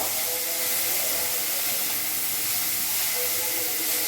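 Boiled yardlong beans fry in a hot pan with garlic, giving a steady, loud, even sizzle and hiss that runs unbroken throughout with no talking.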